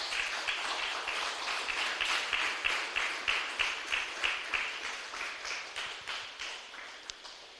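A church congregation claps together in a steady rhythmic beat, many hands in unison mixed with scattered applause, moderately distant and sustained for several seconds before tapering off.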